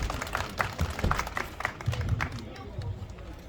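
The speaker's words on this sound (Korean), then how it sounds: "박수로 모시겠습니다." A crowd at a press conference claps to welcome a union branch leader to the podium, a short patter of applause from a modest gathering. Voices murmur and talk alongside the clapping.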